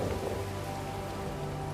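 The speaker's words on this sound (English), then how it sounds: "It's absolutely torrential downpour as the coast is being hit by a massive downpour of rain." Torrential rain pouring down on a coastal beachfront, a dense, loud, continuous hiss of heavy downpour with no voices.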